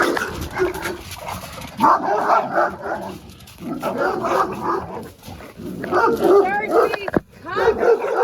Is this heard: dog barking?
yes